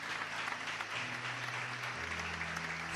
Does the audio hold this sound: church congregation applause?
yes